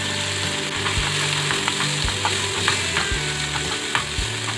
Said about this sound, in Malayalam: പിന്നെ ഈ പറഞ്ഞ പോലെ നമ്മുടെ ഉള്ളി ഇടുക.